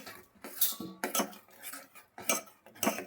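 A spoon scrapes and clinks against a pan while stirring a jaggery mixture on the stove, in uneven bursts of close metallic strokes with short quiet gaps between.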